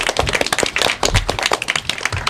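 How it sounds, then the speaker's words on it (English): Elementary school students at an academic quiz competition clap for themselves, a loud, close, uneven patter of individual claps rather than a smooth wash. "Big round of applause for yourselves."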